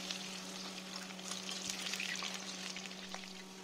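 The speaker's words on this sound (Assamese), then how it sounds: "ইয়াতে মই অলপ মিঠাতেল দি দিছোঁ আৰু প্ৰথমতে মই আলু কেইপিচমান ফ্ৰাই কৰি ল'ম।" Potatoes fry in mustard oil in a hot kadai, a soft, steady sizzle with scattered crackles and pops continuing throughout, close by and fairly quiet.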